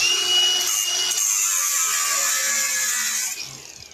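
A high-pitched power tool whines steadily while cutting off pipes under a VW Bora 1.9 TDI, loud and close throughout, then eases off near the end.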